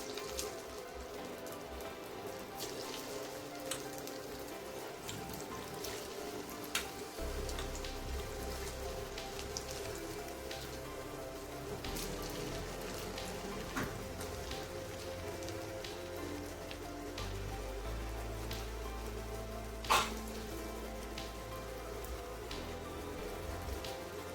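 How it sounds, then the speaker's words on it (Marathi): A batch of farali pakoda fritters frying in oil, a continuous soft crackling sizzle with scattered pops and a low hum beneath, steady and fairly quiet, no talking. "आता याचप्रमाणे दुसरी बॅचही तळून घेऊया."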